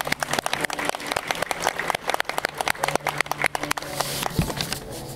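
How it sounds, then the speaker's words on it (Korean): Wedding guests applaud the bride and groom at a wedding ceremony, with dense, steady clapping that swells and thins over several seconds. Scattered louder claps stand out near the front. "우리 신랑 신부에게 큰 박수 한번 보내드립니다."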